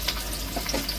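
Green chillies and onions fry in a pan with a loud, close, steady sizzle and small crackling pops as they are stirred.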